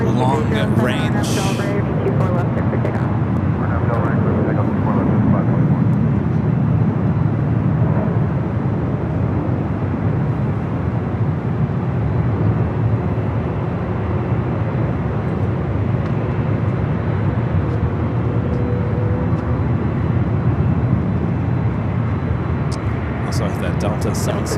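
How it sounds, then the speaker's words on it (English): A JetBlue Airbus A321neo long range airliner at LAX, a sustained loud broadband jet roar that fills the whole stretch, steady and close, with voices present underneath. "Next up, JetBlue, flight 524, heading to JFK. A321 Neo long range."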